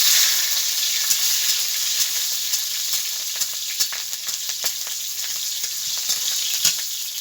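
Steady, bright sizzling of slit green chillies frying in hot oil, with occasional crackles and pops throughout, close and continuous.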